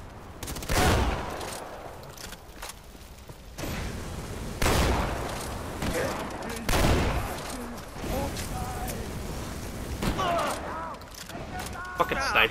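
Sniper gunfire in Far Cry 4, several sharp loud reports spaced a couple of seconds apart over continuous game noise, with voices talking in between.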